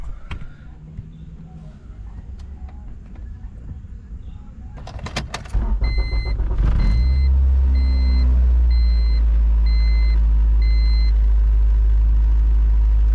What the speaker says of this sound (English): Let me turn on the car and show you guys what I'm talking about.